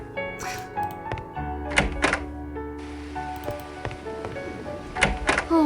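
Locked door rattled in a video game, a few hollow wooden thunks and knocks spread over several seconds against a low steady hum, faint and up close.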